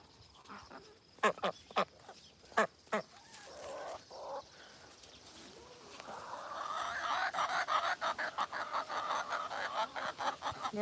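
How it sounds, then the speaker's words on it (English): Several loud, separate squawking calls from nearby birds early on, then a busier stretch of rapid overlapping quacks and chatter over a rustling background. "Hey, ducks."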